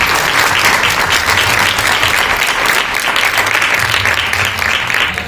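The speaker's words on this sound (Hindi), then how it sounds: "ताली बजाकर परमेश्वर को" A church congregation claps hands in praise to God during a sermon, loud dense sustained applause filling the whole stretch at close range.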